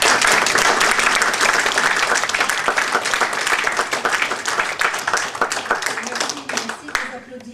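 A concert audience claps in a dense, sustained burst of applause that fills the space, holding steady before thinning and tapering off near the end.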